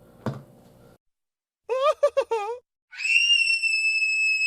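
Eustace from the Courage the Cowardly Dog cartoon screaming in a few sharp, loud bursts after a brief thump, followed by a sustained high, steady tone.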